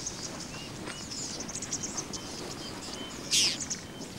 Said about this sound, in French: le rôlier à long brun est un oiseau agressif et batailleur